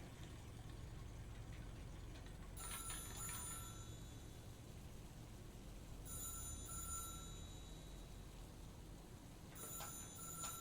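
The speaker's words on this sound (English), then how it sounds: "What's ringing? Oh, the phone." A telephone rings faintly in three short bursts of ringing, spaced apart, over a low continuous hum with no voices.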